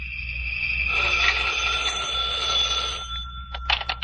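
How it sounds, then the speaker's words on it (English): A telephone bell rings in a long trilling burst, then a few short rattling rings follow, close and fairly loud with no one talking. "When I got home, the phone was ringing."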